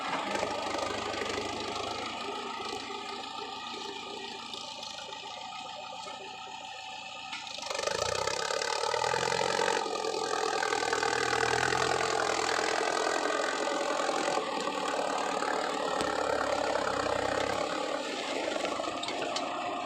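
Ford 6610S tractor engine running at low revs while plowing wet, sticky clay soil, a steady mid-pitched drone that grows louder and heavier partway through and continues without any voices.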